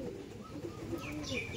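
An old-generation male and female pigeon pair coo softly at a steady, faint level, with low murmuring calls repeating through the moment and no voices.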